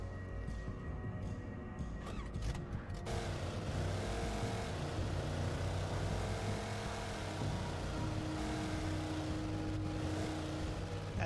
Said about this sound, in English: Goddamn logging truck.